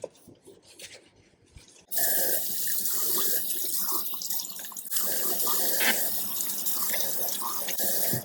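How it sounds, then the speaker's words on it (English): After a couple of seconds of quiet handling, a tap opens and water runs steadily into a sink while the basin is washed, splashing and shifting in tone. It stays close and continuous to the end. "I'm also going to wash the sink and the basin area."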